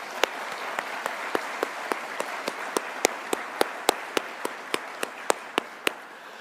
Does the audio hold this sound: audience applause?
yes